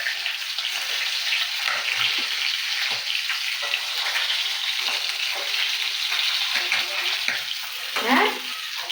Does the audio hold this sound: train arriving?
no